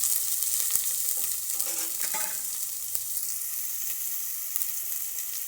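Onions fry in ghee in a pan for ghee rice, giving a steady close sizzle with occasional stirring scrapes and clinks and no talking.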